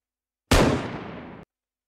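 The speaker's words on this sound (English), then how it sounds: "it is shooting zombies as well" A single loud gunshot with a long decaying tail from a Unity first-person zombie apocalypse survival shooter, the one blast ringing out alone for about a second.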